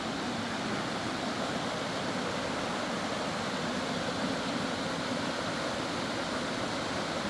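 Rushing water pours steadily over a waterfall near Jasper in winter, a dense, even roar with no pauses.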